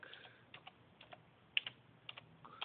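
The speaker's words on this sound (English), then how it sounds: "Let's just type that in." Keys clacking on a keyboard as a search phrase is typed in, a quiet irregular run of separate taps with a few sharper strokes, heard alone without talk.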